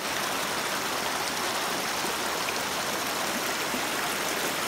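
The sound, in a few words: water flowing from a pipe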